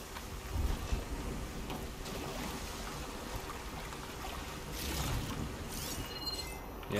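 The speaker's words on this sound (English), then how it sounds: "It's a peaceful looking waterfall." A waterfall in the video game Horizon Forbidden West rushes in a steady, broad wash of falling water that holds throughout, with no talk over it.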